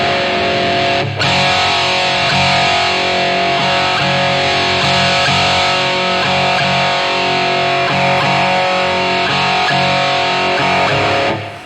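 Heavily distorted electric guitar played through STL AmpHub amp-simulation software plays continuously, loud and sustained, with a thick, saturated tone and no voices.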